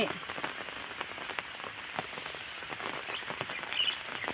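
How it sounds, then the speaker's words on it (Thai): Steady rain falls on a surface, a dense patter of drops with scattered sharper hits, moderately loud and continuous, with faint bird calls in the background. "ฝนตกใส่"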